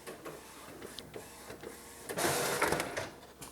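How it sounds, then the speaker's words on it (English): Epson WF-C8 office printer printing a long photo print: soft mechanical ticks and whirs give way to a louder sustained rush of paper feed and print-head motion, close and with no talk. "then this is an office printer"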